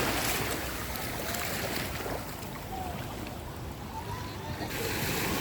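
Sea waves on a beach at Real Quezon hiss and wash in a steady broadband roar, with a brief voice or two faintly under the surf.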